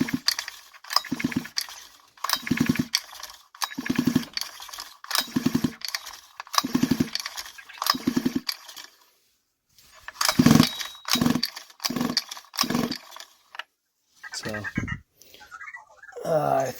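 Pull-starting a 1/5 scale Exceed Barca 4x4 RC car engine: about a dozen slow, evenly spaced rasping pulls of the starter cord, each a short churning burst, close and loud, with a brief pause midway and a faster scrape near the end.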